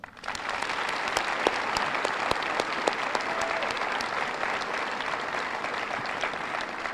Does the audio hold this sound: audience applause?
yes